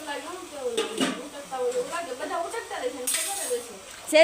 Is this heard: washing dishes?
yes